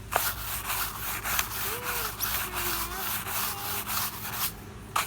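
A small soft scrub brush working over wet carpet from a flood-damaged Mercedes SLK 320, a continuous close rasping scrub with rapid back-and-forth strokes, fairly loud and steady throughout.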